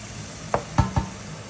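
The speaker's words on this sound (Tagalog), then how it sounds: "Lumabas na yung oil niya. So, gigisahin lang natin to." Onion goes into hot oil in a pan as vegetables are sautéed for lasagne: a soft sizzle under three quick scraping knocks of a utensil against the pan, close and moderately loud.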